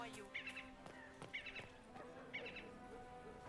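A bird in Dragon Age: Inquisition gives high, squeaky, dolphin-like chirping calls in three short bursts, spaced about a second apart, over a quiet ambient background.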